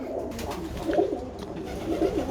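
Birmingham Roller pigeons of the George Mason line coo softly in a loft, low throaty murmurs rising in two swells over a steady background hum.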